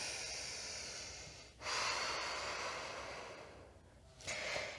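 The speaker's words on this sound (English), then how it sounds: "Deep breaths here." Deep, slow breathing during a beginner yoga stretch, with long airy inhales and exhales close to the microphone, one strong breath swelling after a brief pause and another rising near the end.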